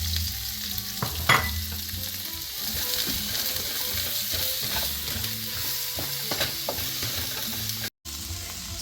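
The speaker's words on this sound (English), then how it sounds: "All right, now we're gonna add our onions." Onions sizzle and fry in avocado oil in a pan, with a steady hiss broken by the scraping and clicking of a utensil stirring them; no talking.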